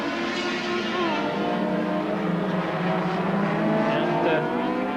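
John Swingler's racing motorcycle on a damp track at the 1986 Transnational Challenge, sponsored by Nottingham motorcycle firms, gives a continuous high engine whine whose pitch rises and falls as it rides, loud and sustained.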